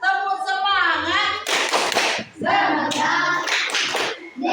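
Children in a classroom clap a quick rhythmic pattern and chant together in a morning energizer cheer, loud and close, with voices mixed in around the claps.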